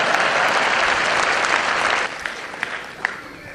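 An audience at a Hindi kavi sammelan poetry event applauds steadily and loudly. The clapping thins out into a few scattered claps near the end.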